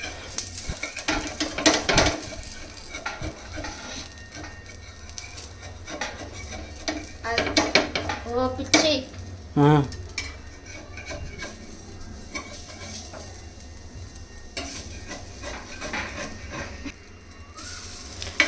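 Dosa cooks with oil on a pan, with close metallic clinks and scraping of a utensil against the pan over a faint, steady sizzle. The clatter comes in irregular clusters.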